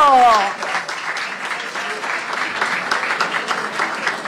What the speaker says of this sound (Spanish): Oh, un aplauso para este niño.